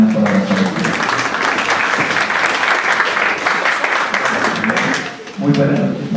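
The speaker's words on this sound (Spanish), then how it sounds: "recibamos con un gran aplauso al doctor Gerardino Vivas Hernández" An audience in a university auditorium bursts into sustained applause to welcome a speaker, a dense, even wash of clapping lasting several seconds, with brief talking just before it begins and again as it fades.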